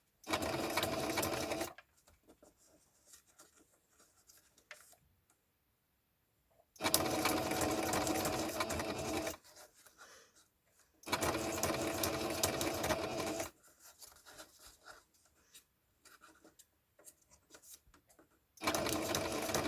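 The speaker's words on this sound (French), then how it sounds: "quitte à faire des masques, et que la machine à coudre elle est sortie" A domestic sewing machine stitches paper lace in long, steady whirring runs, stopping and restarting several times with quiet handling noises in the pauses.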